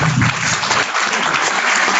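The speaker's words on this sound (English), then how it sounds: "A round of applause for Ione." Audience applause for a presenter at a genetics summit, a dense, steady wash of many hands clapping throughout, loud and close.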